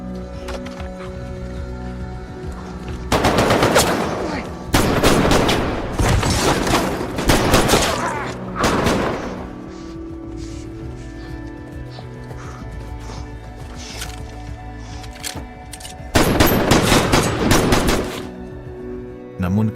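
Bursts of gunfire and loud impacts punctuate a chase in an action film scene, arriving in several dense clusters between quieter stretches of ambient sound and horses' clip-clop.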